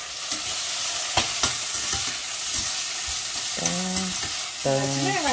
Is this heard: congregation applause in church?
no